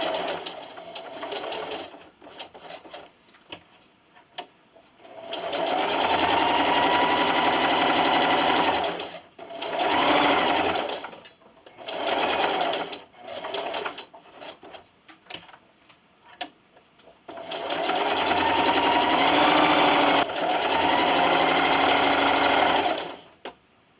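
Close, rhythmic stitching from a sewing machine on fabric for an Easter carrot-shaped treat bag comes in several separate runs, each a few seconds long, with quiet gaps and light handling noises between them.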